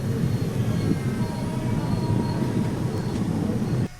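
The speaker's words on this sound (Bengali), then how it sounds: "এক মিনিট দাঁড়ানোর পর আমাদের ট্রেন ছেড়ে দিল গ্রাম রেল স্টেশন থেকে" The Mayurakshi Express train rumbles steadily as it departs a station in India, a low continuous roar of wheels and engine that holds constant before cutting off abruptly at the end.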